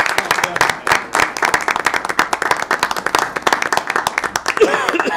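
Sustained applause from a crowd at a Cambridge City Council meeting, dense rapid clapping throughout with a few voices and cheers mixed in, fairly loud and close.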